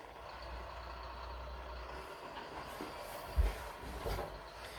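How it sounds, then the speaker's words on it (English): Heavy truck idling outdoors with a steady low engine rumble and a brief louder burst near the end, like a hiss or engine surge, with no talking. "We got a bit of a noisy truck outside."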